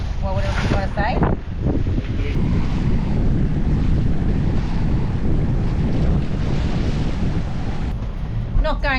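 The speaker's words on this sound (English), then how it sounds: "we're actually beating into the wind. So we're up and down on the waves" Strong wind roars continuously across the microphone on a sailing boat beating into the wind at about 22 knots off the Great Barrier Reef, motoring with the headsail out, with waves thudding beneath and faint voices briefly at the start and end.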